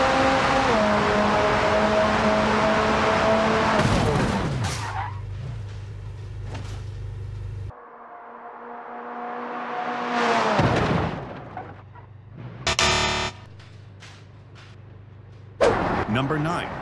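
McLaren 620 in the BeamNG Drive driving game: a loud sustained engine roar that climbs in pitch, breaks off, then returns in surges with sharp crunching impacts and bursts of noise.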